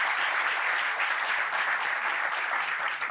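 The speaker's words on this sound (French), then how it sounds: "Applaudissements pour vous-même, cher public." Studio audience applauding steadily throughout at a French-language talk show about village development mutual associations, a dense, even wash of clapping with no voices over it.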